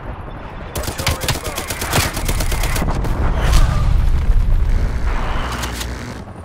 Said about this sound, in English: Artillery targeting detected.